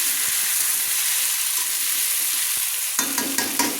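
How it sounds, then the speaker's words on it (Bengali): Pumpkin and potato pieces fry in oil in a pan for a Bengali pui chyachra, giving a steady close sizzle that turns into louder scraping stir strokes near the end. "মিষ্টি কুমড়ো আলু আবারও আমি একটু তেলে ভেজে নিয়েছি"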